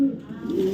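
A female racing pigeon of foreign bloodline, ringed BRPL 25, gives one short, soft coo up close, with a low rolling tone that rises slightly at the end.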